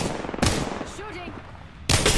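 Video game gunfire in a team shooter match: two sharp bursts of shots open and close the brief moment, loud and close, with quieter game sounds between.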